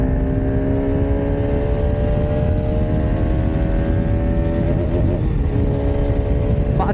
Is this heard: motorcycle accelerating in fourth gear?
yes